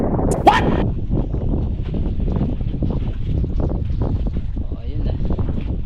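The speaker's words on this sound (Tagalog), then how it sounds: "Lakas ng hangin ah." Strong wind buffets the microphone aboard a wooden boat being painted, a steady broadband rush lasting throughout with a brief sharp knock near the start, while people talk over it.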